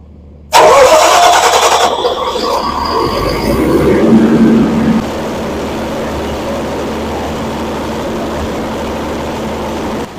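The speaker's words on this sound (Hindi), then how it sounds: "सबसे पहले हम लोग इंजन को स्टार्ट कर लेंगे।" A Perkins 250 kVA generator engine cranks and catches abruptly, roaring up loudly before settling into a steady, rumbling idle that holds close and constant.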